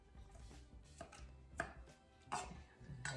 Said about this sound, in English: Preferably you're using a very sharp knife, as I am, so you can cut through without damaging the tomato